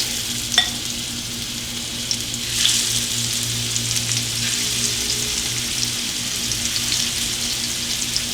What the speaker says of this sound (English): See how it's already hot, so it's sizzling.